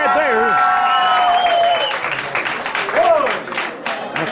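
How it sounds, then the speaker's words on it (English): Fans at a wrestling match between Matt Knicks and Marcus Conrad applaud and cheer throughout, with a commentator talking over the crowd noise. "And the fans applauding Matt Knicks' effort already."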